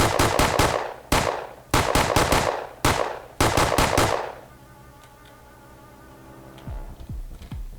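Assault rifle fire in the video game 2WRL Rogue: Operator Trinity comes in several loud, rapid bursts of sharp shots over about four seconds. Quieter ambient game sound follows, with no talking.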